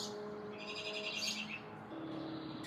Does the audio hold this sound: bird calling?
yes